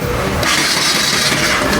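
A Bajaj RS200 motorcycle engine with low compression runs steadily close up, a loud, rough mechanical drone that holds throughout with no talk.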